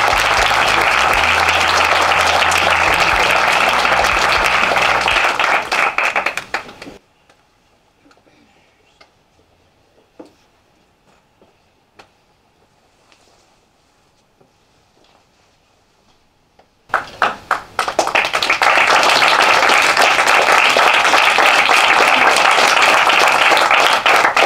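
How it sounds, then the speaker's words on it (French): An audience applauds the band at a live comedy stage show, with loud dense clapping for about seven seconds, a stretch of near silence with scattered faint ticks, then full applause again. "On peut les applaudir."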